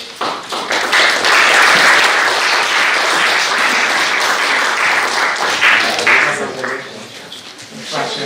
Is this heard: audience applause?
yes